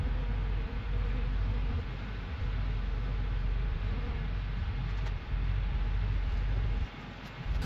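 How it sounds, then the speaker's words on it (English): A dense, continuous buzz of many bees fills the air around an underground beehive being cleared, steady and close with slight dips in intensity. "the bees are going straight to the box because the queen's in there"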